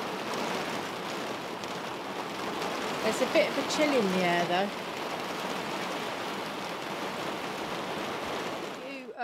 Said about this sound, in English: It's absolutely pouring now